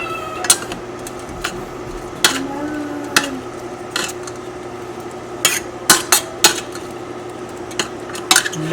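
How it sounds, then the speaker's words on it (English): Clinks and knocks of pre-boiled macaroni tipped from a container into a pot of cheese sauce: sharp, scattered taps and scrapes of metal and utensils against cookware, near and fairly soft, with no talking. "I already pre-boiled my macaroni. I'm getting ready to dump it on in there."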